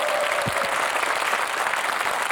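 A dense burst of applause from a group of soldiers at an army unit, loud and continuous throughout, with a faint voice briefly under the clapping.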